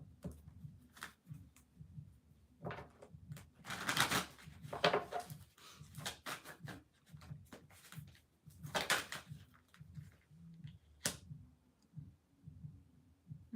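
A deck of cards being shuffled by hand, soft riffling bursts and snaps repeating several times over a low steady background hum, close and quiet.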